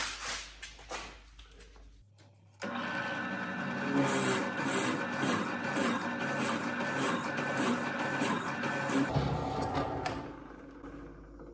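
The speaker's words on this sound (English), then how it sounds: "let's punch out this hole" A circular hole is punched out of a wooden board, a loud, steady machine-like grinding roar that runs about seven seconds alone, preceded by quieter workshop handling and a low hum.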